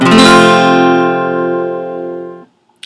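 A single acoustic guitar chord strummed once, ringing loudly and sustaining for over two seconds before being cut off into silence.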